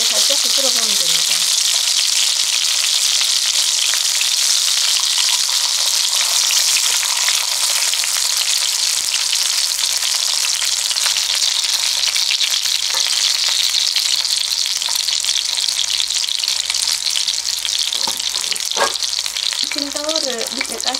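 Breaded pork cutlets for tonkatsu fry in oil, a loud, dense, steady sizzle with fine crackling throughout, interrupted briefly by quiet clinks near the end.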